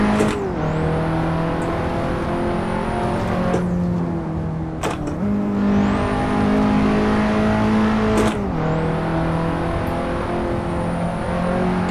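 An Audi S1 Quattro race car at full throttle on the Nordschleife in Assetto Corsa. The engine drones loud and steady, rising in pitch through each gear, with sharp upshifts every three to four seconds and no talking.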